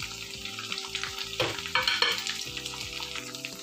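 Steady crackling sizzle of spices frying in a hot pan with garlic for paneer gravy, with a louder burst of spattering midway and occasional stirring scrapes.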